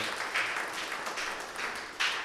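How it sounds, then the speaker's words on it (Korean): A church congregation at a youth worship service claps to celebrate three birthdays, a soft, diffuse patter of many hands from across the room with a few louder swells. "박수로 좀 우리 축하했으면 좋겠어요"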